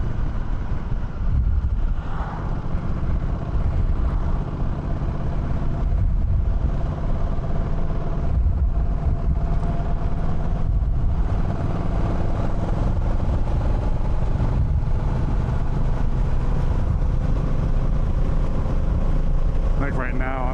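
DCT motorcycle cruising at speed in 6th gear: continuous loud engine drone mixed with heavy wind roar, steady throughout with a rider talking over it.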